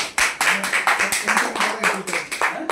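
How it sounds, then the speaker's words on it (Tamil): An audience at an association general meeting claps in a dense, steady round of applause with many close individual hand claps, and a voice speaks faintly beneath it. "ஒரு பெரிய கைத்தட்டல் கொடுத்துடலாம்."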